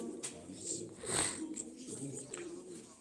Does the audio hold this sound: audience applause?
no